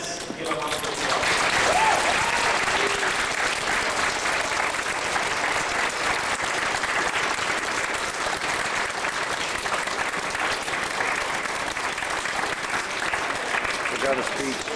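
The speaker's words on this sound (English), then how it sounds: "So let's give him a round of applause." Sustained, dense applause from a large crowd at a May 2004 community welcome event in Cranbrook, loud and even throughout with cheering mixed in, filling the whole stretch without pause.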